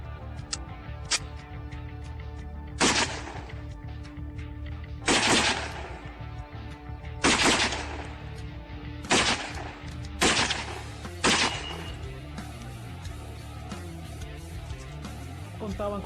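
Sound-effect gunfire from early rifles and Thompson submachine guns rings out in separate sharp bursts, roughly every two seconds, loud and clipped over a steady background hum.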